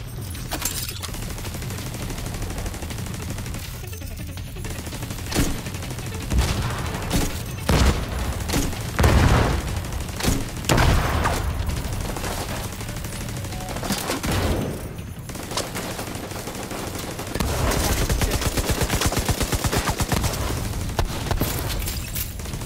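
Dense gunfire in The Division 2 during a Capitol Building challenge mission, rapid automatic bursts and single loud shots cracking in irregular volleys with occasional booms, sustained and close throughout.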